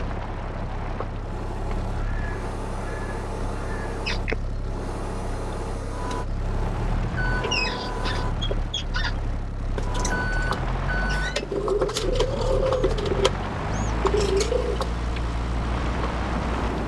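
Forklift in Farming Simulator 22 driving around a logging yard, its engine droning steadily while intermittent reversing beeps chirp over the top, with bird calls and a few other game sounds in the background.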